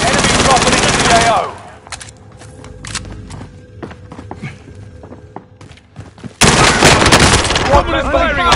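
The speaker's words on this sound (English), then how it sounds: "Someone is firing on the point." Video game gunfire: a dense burst of rapid automatic shots, a stretch of scattered single cracks and thuds, then another loud sustained volley, close and harsh.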